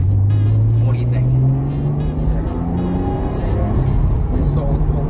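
A Nissan Skyline GTR R33 V-Spec accelerates from inside the cabin, its engine note rising steadily through the revs in a loud, continuous drone with road rumble underneath.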